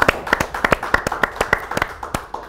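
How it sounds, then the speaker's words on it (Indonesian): An audience at an Indonesian talk show claps after a poetry reading, sounding as crisp, evenly spaced claps in a quick steady rhythm, close and clear with no talking. "Tepuk tangan yuk."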